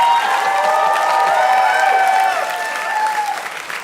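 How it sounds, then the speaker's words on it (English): A comedy audience applauds loudly with cheering and whoops mixed in, a dense wash of clapping that gradually eases off. "the crowd laughed and is giving a big applause break"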